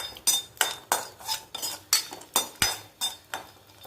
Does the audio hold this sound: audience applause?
no